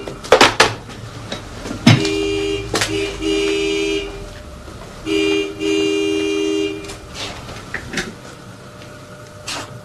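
A customer's car horn honks repeatedly outside at night on a town square, several short toots and two longer sustained blasts with gaps between, fairly loud against a quiet background.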